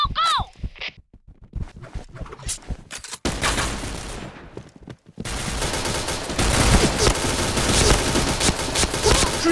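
Bursts of rapid gunfire from the shooter game Point Blank in practice mode, with a few scattered shots at first, then dense sustained automatic fire that grows louder and fills the rest of the clip.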